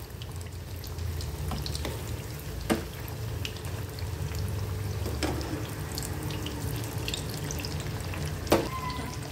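Sliced brinjal bhajiya frying in oil, turned often until reddish: a steady bubbling hiss of frying with a few sharp clicks of a utensil, no speech.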